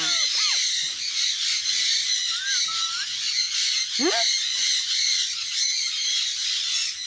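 A bird gives a few sharp squawks and rising whistled calls over a constant dense background of insect or bird chatter, moderately close.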